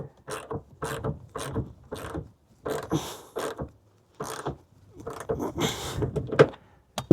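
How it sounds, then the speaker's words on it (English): A ratchet fitted with an 18mm socket works the rear seat bolts of a Jeep Wrangler, giving repeated short clicking bursts in an uneven rhythm, close to the microphone and loud. "18mm socket."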